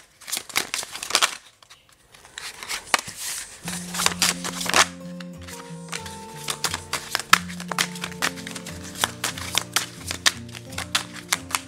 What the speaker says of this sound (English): If I could shuffle these cards the right way, again.